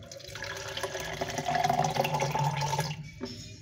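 About 300 grams of water is poured into a container for a homemade weight-loss drink, giving a close, uneven splashing and gurgling stream that swells in the middle and trails off with a few drips.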